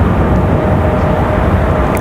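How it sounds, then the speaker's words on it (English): An American Airlines Airbus A321 jet departing Raleigh-Durham International, its steady broadband engine roar loud and constant throughout, with no voices. "American A321 up next for departure"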